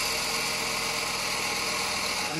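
Steady mechanical drone from Tesla turbine generator gears under a 1200-watt electrical load, with a broad whining hum, constant and unbroken like machinery running nearby.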